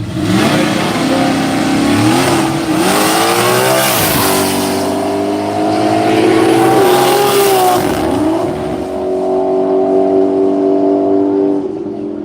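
A Toyota Supra race car on a qualifying run screams past loudly, its engine revving hard through several gear changes with rising and dropping pitch, then fading away.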